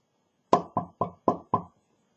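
Five firm knocks on a door, evenly spaced and close, each a sharp dull thud, followed by silence.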